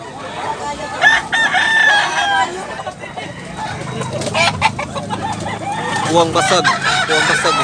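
A Japanese bullstag gamecock crows and clucks at a cockfighting market in Tabunok, Talisay, Cebu, with several loud calls rising over a busy background of crowd babble and nearby talk.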